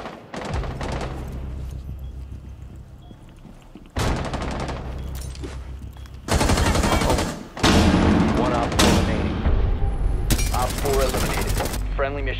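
Automatic gunfire in the video game Rainbow Six Siege: loud, close bursts of rapid shots, several sustained volleys separated by brief pauses.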